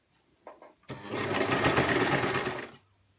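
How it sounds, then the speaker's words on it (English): A sewing machine stitches fabric fitted with a piping presser foot: a couple of soft clicks, then a close, loud, continuous whirring burst of about two seconds that stops abruptly. "we're going to continue to sew until we get to the pin mark"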